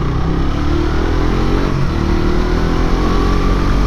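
A Suzuki GSX-R motorcycle rides fast through flood water on a rainy day, its engine roaring loud and steady the whole time with constant rushing noise and no talk.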